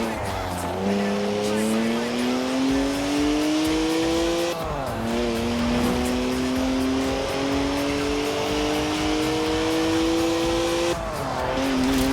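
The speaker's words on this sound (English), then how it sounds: "Three-litre straight six, 335 horsepower, 2 turbos, and as much sideways action as you like." Video game BMW with a three-litre twin-turbo straight-six, 335 horsepower, revving hard through gears with two shifts and a steady rising engine drone, loud and up close.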